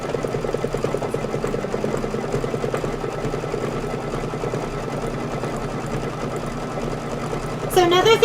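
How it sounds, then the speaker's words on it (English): A multi-needle embroidery sewing machine runs decorative stitching around a trimmed quilting piece, a steady rapid mechanical chatter throughout, close and fairly loud, with a brief clatter near the end. "decorative stitching around that piece that we just trimmed"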